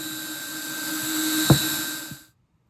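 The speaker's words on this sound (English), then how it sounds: "first I needed to drill a hole for the wire under the saddle" A steady high-pitched whine of a small power drill boring a hole under an acoustic guitar's saddle runs for about two seconds, with a couple of faint knocks, then cuts off abruptly into silence.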